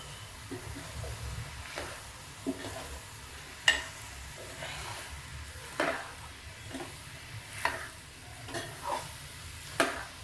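Veg pulao is stirred in a pan, with a steady low sizzle under repeated spoon scrapes and occasional sharper clinks every second or two, close and moderately loud.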